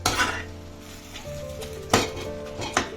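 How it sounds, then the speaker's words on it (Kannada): Cooked tomatoes being mashed in a pan for tomato gojju, with soft sizzling and scraping, a faint clink of utensil on metal and sharper knocks near the end; no talking. "ನೋಡಿ ಈ ಥರ ಚೆನ್ನಾಗಿ ಸ್ಮಾಶ್ ಮಾಡ್ಕೊಳ್ಳೋಣ"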